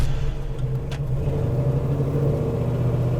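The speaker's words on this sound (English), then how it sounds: "we're taking off in the TA Challenger" A 1973 Dodge Challenger TA tribute build with a stroked 340 V8 and forged rotating assembly pulls away, its loud, deep exhaust rumbling steadily and close for the whole stretch with no talking.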